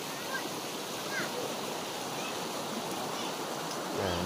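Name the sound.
river water flowing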